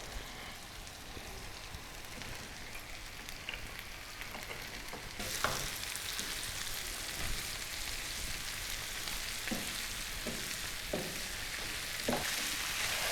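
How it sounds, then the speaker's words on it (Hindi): Minced keema with potato and capsicum fries over medium flame, giving a steady, rain-like sizzle that grows louder partway through, with occasional scraping stirs. "वेजिटेबल्स को हमने कीमे के साथ 4 से 5 मिनट मीडियम फ्लेम पर भून लिया है।"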